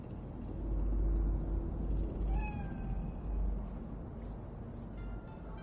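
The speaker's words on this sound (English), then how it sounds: "It's a cat like any other." A cat in the video game Cyberpunk 2077 meows twice in quick upward-bending cries, faint against a low rumbling city ambience.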